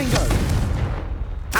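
A Confringo fire spell from Hogwarts Legacy goes off with a loud, booming blast that fades into a rumbling tail, with a voice heard over it before a sharp swish at the end.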